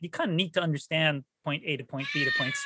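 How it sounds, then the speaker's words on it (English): A pet cat meows indoors during a conversation, its drawn-out, whiny cries overlapping a person talking nearby. "That's my cat is about to make an appearance. I don't know if you can hear her."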